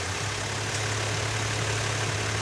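A car engine idles steadily under an open hood, a constant low hum and drone with a broad mechanical hiss from the moving belts, close and unbroken throughout.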